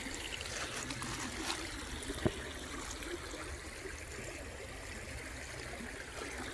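Pine Creek in Prattville, Alabama trickles and burbles steadily over rocks, a soft, even flow of water with a faint click partway through and no voices.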